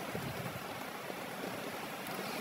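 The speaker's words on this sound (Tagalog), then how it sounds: "habang ini-edit ko po ang video na ito ay sobrang lakas po ng ulan" Heavy rain falling steadily, a dense broadband hiss with no pauses and no voices, fairly loud and close throughout.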